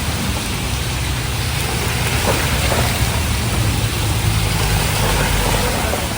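Heavy rain pours down in a dense, continuous hiss, with a low rumble of passing traffic underneath.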